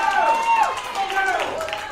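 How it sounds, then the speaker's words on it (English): Crowd rooting on athletes at a weightlifting games event, blended shouts and cheering voices rising and falling throughout, close and continuous. "Crowd rooting them on."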